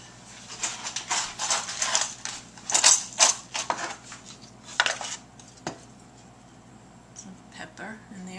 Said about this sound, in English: This is my pepper mill from my good friend Joe.